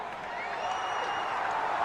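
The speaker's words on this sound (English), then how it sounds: "Terribly overdubbed, like, crowd noise" Steady wash of dubbed crowd noise from a wrestling broadcast, a continuous cheering murmur with faint whistle-like tones drifting above, even and unbroken for the full stretch.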